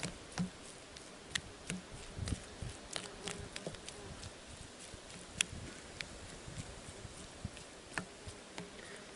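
A wasp buzzes faintly around food being prepared outdoors during a motorcycle trip, mixed with scattered sharp clicks and small handling knocks, with no speech.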